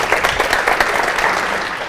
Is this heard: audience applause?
yes